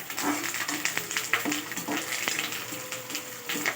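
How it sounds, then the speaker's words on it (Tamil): Chana dal, dried red chillies and curry leaves fry in oil in a pan over a medium flame, a steady close sizzle with scattered crackles and pops and no talking. "ஸ்டவ்வை மீடியமில் வச்சுட்டு கடலைப்பருப்பு நல்லா பொரியட்டுன்ட்டு காய்ந்த மிளகாய், கருவேப்பிலை சேர்த்து நல்லா வதக்கவும்"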